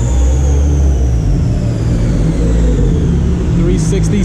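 A turbocharged Honda Civic Si engine revs hard on a dyno, a loud continuous mechanical roar close up with steady low rumble throughout and brief voices underneath.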